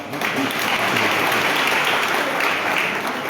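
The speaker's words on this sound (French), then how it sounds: "Il faut applaudir 2 secondes également" Steady, dense applause from an audience at a political mobilization rally, unbroken clapping that holds at the same loudness for a few seconds.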